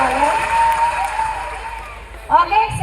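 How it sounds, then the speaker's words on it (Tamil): An audience at a children's event claps for the parents: a sustained burst of applause under a voice, thinning toward the end before a brief louder swell. "அவங்களுக்கு நீங்க ஒரு பலத்தை கைத்தட்டல் கொடுத்துடலாமா?"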